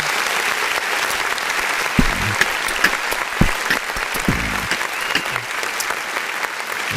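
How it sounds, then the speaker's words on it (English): Hand clapping during a live music review stream for underground artists, a steady wash of many quick claps with a few sharper, louder strikes standing out near the middle, and some faint voice-like sound mixed in. "let me just clap."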